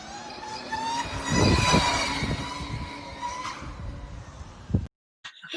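A LiveWire electric motorcycle gives a thin, steady whirring hum, like a toy car, rising and falling for several seconds before it cuts out abruptly. Faint road noise sits underneath.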